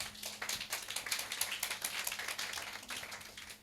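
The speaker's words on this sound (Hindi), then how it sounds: "जोर से ताली बजाएं।" A church congregation claps loudly during a sermon, a dense and steady burst of many hands that carries on without a break for several seconds.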